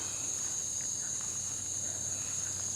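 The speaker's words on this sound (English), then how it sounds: "Now those are real crickets." Crickets chirp steadily at night in a continuous high, even trill that stays at a constant level throughout, with faint background noise and no voices.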